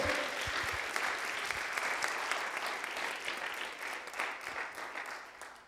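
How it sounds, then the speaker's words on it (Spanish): A church congregation applauds the Lord during a sermon on faith, steady full clapping from many hands that stays even throughout, fading slightly near the end. "Dele un fuerte aplauso ahí al Señor."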